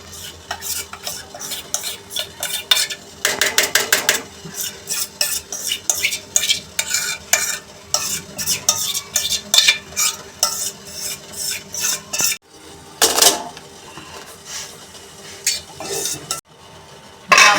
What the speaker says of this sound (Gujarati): આ બેટરમાં આમાં થોડું તેલ નાખીને હવે આપણે એને હલાવી દઈશું.